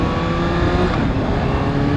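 A 2016 Kawasaki ZX6R sport motorcycle engine revving hard and accelerating from a stop in traffic, loud and close with a constant high-pitched roar and no voices.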